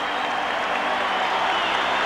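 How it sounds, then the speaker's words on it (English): A large basketball arena crowd in 1978 at a Knicks vs Celtics game cheers and applauds loudly and continuously, a dense roar of clapping and voices filling the whole stretch. "Listen to the crowd."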